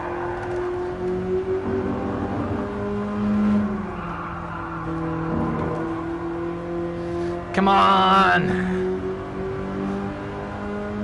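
A BMW E30 M3 engine in a VR racing game revs hard up to the rev limiter, with a steady loud drone and a brief high-pitched surge toward the end, and a voice comes in briefly over it.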